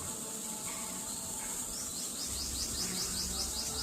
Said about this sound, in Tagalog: Ayan sila, daming bird.